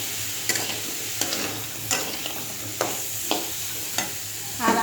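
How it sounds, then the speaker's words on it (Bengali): Crab pieces fry in a pan with a little spice, giving a steady sizzle that is broken by several sharp scrapes and stirs at irregular intervals, close up and unaccompanied by voices. "এবারে আমি সেই কাঁকড়াটা সব দিয়ে দেবো"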